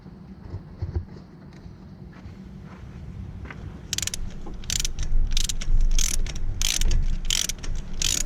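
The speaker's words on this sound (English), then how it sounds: "use a special tools torque wrench" Torque wrench ratcheting as a bolt is tightened to 25 newton meters: a faint hum at first, then a close run of about eight rapid ratchet clicking bursts in a steady rhythm, with no talk.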